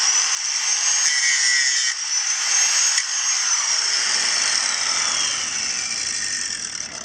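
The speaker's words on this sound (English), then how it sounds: "I'm going to just take a grinder and push that back a little bit so we got better clearance" Angle grinder grinding back a steel plate on a Timberking 1400 sawmill, a continuous high-pitched whine and scrape whose pitch drifts slowly as the disc bites, loud and close without talk.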